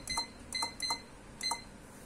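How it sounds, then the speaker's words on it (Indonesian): Four short electronic warning beeps from a machine counter buzzer on a weaving loom, sounding at irregular intervals, fairly loud and close, with a faint background hum between them. "Akan ada buzzer peringatan."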